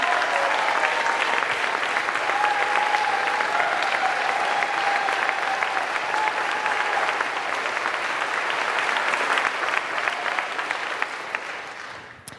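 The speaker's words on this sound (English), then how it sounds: "Please give your minister a round of applause." A gathering audience claps steadily for a minister, a full, sustained round of applause with a faint whistle-like tone in places, tapering off at the very end.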